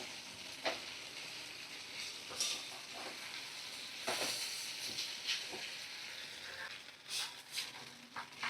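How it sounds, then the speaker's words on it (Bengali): Hot water is poured onto mutton liver frying in a pan and then stirred, a hissing sizzle broken by several sharp bursts of steam and scraping stirs. "তো দেখো পরিমাণ মতো একটু গরম জল আমি দিয়ে দিলাম, আর একটু নাড়াচাড়া করে"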